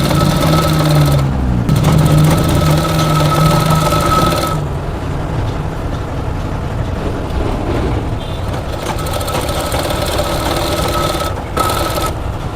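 Sewing machine stitching the middle seam of palazzo trousers, running in a loud, steady whirring drone up close, pausing briefly and resuming.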